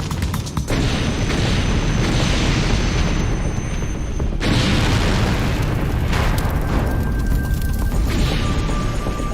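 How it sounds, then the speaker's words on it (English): Loud, roaring chemical explosion with rumbling low-end that keeps churning, followed by a second heavy burst and crackling debris. "One explosion is so powerful that it sends firemen running for their lives."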